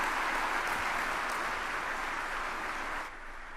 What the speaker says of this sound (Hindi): जोरदार तालियों से स्वागत माननीय प्रधानमंत्री जी का।